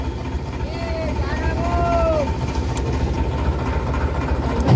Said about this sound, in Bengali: আমাদের এবার লঞ্চ ছাড়বে।